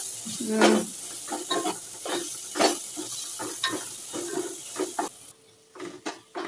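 Secret masala spices with ground coriander and cumin being sautéed in a pan, with close scraping stirs and a soft sizzle in irregular bursts, ending in a quieter stretch.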